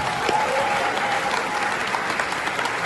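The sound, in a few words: audience applauding at a political speech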